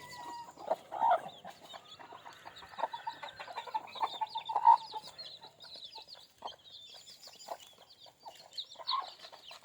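Free-range chickens clucking outdoors, several birds giving scattered short clucks and calls at moderate distance, spread irregularly across the stretch with quieter gaps.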